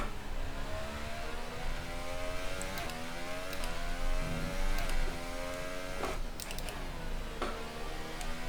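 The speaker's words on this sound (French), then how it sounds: "On voit quand même que le son des voitures a bien changé hein, entre le 2018 et le 2021." Formula 1 car engine in a racing video game at Hockenheim, a steady high-pitched whine with rising and falling revs through gear changes, loud and continuous, with brief ticks and clicks mixed in.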